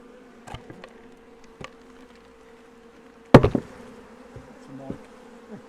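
Honeybees rescued from a chimney hum in a low steady drone, broken by a few taps and a sharp knock partway through as comb is handled.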